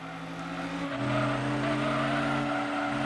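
Race car engines in Gran Turismo 7, a 1970s Can-Am car racing against 1990s GT1 cars, droning steadily with a sustained loud engine roar that shifts pitch as gears change, with faint tire noise.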